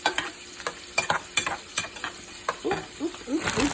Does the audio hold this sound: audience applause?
no